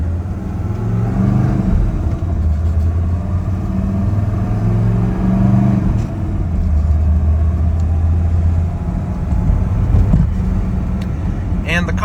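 A Mercedes W123 300TD turbo diesel car driving at speed, its steady low engine drone and road rumble filling the cabin continuously, with slight shifts in pitch as it pulls.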